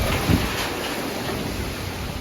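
Strong typhoon wind roars steadily outdoors as broadband noise, with a brief gust or thump near the start and rain-like hiss throughout.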